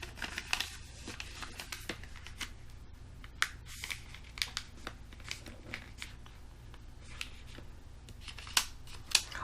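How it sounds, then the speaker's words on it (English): Sheets of origami paper being folded and creased by hand on a work bench, close and fairly quiet, with a steady run of crisp rustles, crinkles and sharp pressing snaps. "Fold the top edge down to meet the bottom edge exactly."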